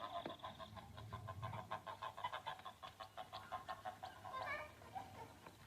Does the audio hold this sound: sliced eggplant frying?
no